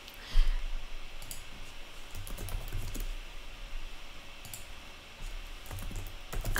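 Steady, quiet clicking of computer keys being typed, a continuous patter of soft taps with no talking.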